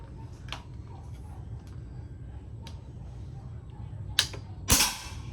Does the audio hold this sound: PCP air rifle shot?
yes